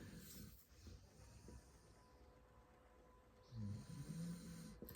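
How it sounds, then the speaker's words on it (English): A pet dog snores low and steady close by, a soft rasping drone that swells louder near the end, with no voices over it. "Sorry about Sprocket snoring"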